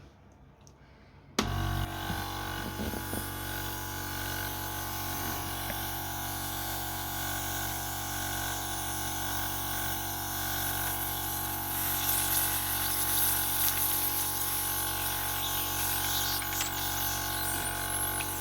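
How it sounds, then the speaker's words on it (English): A Sunset SU100DC portable suction machine draws up mayonnaise, its steady motor hum and wet sucking noise starting abruptly and holding at an even, close level throughout. "I'm going to use mayonnaise here as a substitute for a real suction procedure"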